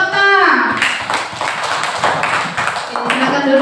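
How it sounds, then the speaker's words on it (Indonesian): Third-grade students in a primary school classroom clap for a group that has just presented, a burst of quick scattered applause right after a teacher's voice, with children's voices mixed in. "Ayo kita beri tepuk tangan dulu untuk kelompok ta."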